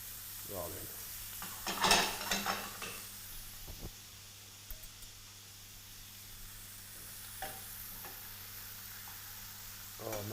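Anchovy butter melting in a pan to sizzle with pork chops, a faint low hiss under a steady background hum, with a short burst of sharper crackling early and a few small clicks afterward.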